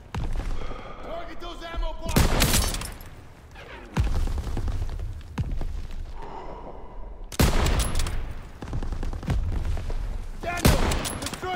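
Bursts of gunfire from the World War II shooter Call of Duty: WWII, with sharp loud shots clustered at several points amid game noise, under intermittent talk.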